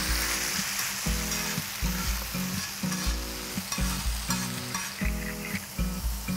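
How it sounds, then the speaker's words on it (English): Pureed tomatoes fry in oil for stuffed chicken masala, a continuous loud sizzle broken by rhythmic stirring or whisking strokes that thump and scrape against the pan. "We're going to fry this for 3 to 4 minutes."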